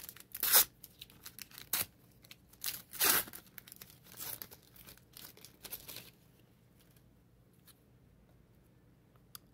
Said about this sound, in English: Let's open another pack.